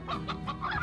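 A chicken in the Slime Rancher game clucks several times in quick succession, close and clear, over soft game background.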